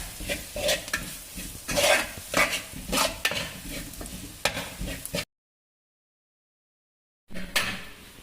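Spices and onions sauté in a pan with garam masala, Kashmiri chili powder and coriander powder for a chicken curry. A steady sizzle runs under repeated scraping strokes of a spoon, close up, then stops for a gap before stirring resumes.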